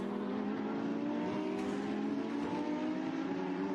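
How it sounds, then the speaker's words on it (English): A Lamborghini race car accelerates out of a corner and down a hill on a circuit, giving a steady, droning engine roar at moderate volume from some distance, with no talking. "Gets back on the power, accelerates down the hill."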